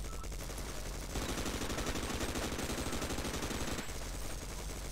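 A heavy turret soldier in Sven Co-op fires a loud, rapid machine-gun stream, steady bursts close and continuous for several seconds with no talk.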